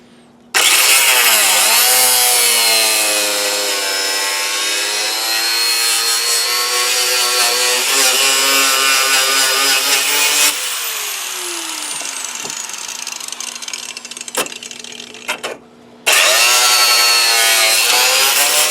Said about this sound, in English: Let's go ahead and cut this bumper support off parallel to where we just made that other cut.